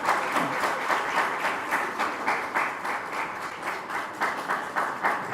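Audience applause for a presenter at a pitch event, a dense steady wash of many hands clapping that carries on throughout with a slight rhythmic pulse, no voices over it.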